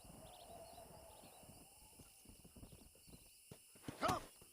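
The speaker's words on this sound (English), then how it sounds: "I can see a horse running around in the background" Horse in the video game Red Dead Redemption, with clip-clop hooves moving around at a distance under ambient game sound, ending in a louder neigh or whinny near the end.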